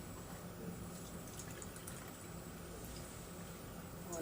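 Water poured from a cup into a bowl for homemade hotcake batter, a steady, soft liquid rush that runs evenly for the whole stretch at low volume, close by, with no voices.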